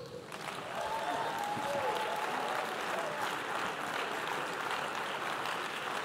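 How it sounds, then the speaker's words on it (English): A church congregation applauds steadily at a morning sermon during a Christian conference, a dense, sustained wash of clapping from a large crowd that holds at an even level throughout. "Give Jesus a big clap offering."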